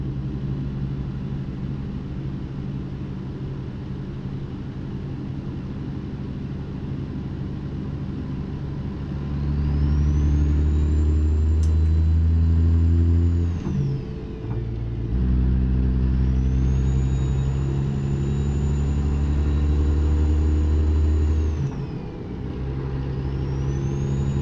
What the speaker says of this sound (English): RPMs and road speed didn't match there, so I had to give her some more juice.